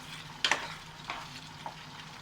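Chilli chicken, restaurant-style Indo-Chinese, being stirred in a pan over a soft steady sizzle, with a few sharp scrapes and clanks of the utensil against the pan, close and fairly quiet, no talking.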